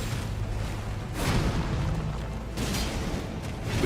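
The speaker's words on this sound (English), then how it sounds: "Remember the second explosion." Booming explosion rumbles through a video game boss fight, a broad sustained blast with a couple of swelling bursts, loud and continuous for a few seconds with no talk over it.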